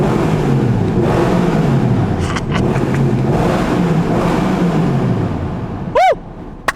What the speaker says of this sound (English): let you listen to how the car sounds